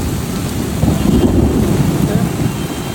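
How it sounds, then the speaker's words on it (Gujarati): Heavy monsoon rain pours down on a city road during a thunderstorm, a dense steady roar of rainfall with a low rumbling swell in the middle, loud and continuous with no voices. "ફૂલ ગાજવીજ સાથે હો ભાઈ"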